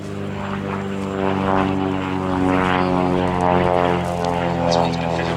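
A Messerschmitt Bf 108 Taifun fitted with an American-built Lycoming engine drones steadily overhead at an air show, a continuous buzzing propeller tone with a faint voice underneath.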